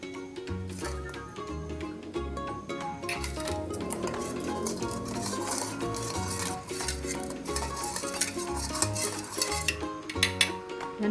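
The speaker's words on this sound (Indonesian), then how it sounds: "Lalu kita aduk." Ground spice paste mixed with water for fried chicken, stirred continuously in a bowl with a spoon. Steady wet scraping and clinking runs throughout, close and fairly loud, with nobody talking.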